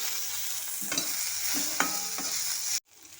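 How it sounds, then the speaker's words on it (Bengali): Drumstick flowers and green chillies fry in a pan over medium heat, a steady close sizzle with a few scraping stir strokes, cutting off abruptly near the end before a fainter hiss resumes. "এখন দিয়ে দিচ্ছি কাঁচা লঙ্কাগুলোর সাথেও সজনে ফুলটাকে ভালো মতো একটু ভাজা ভাজা করে নেব"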